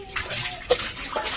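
Tap water pours into a utensil as a soft, steady rushing flow with a small splash partway through, fairly quiet and with no voices.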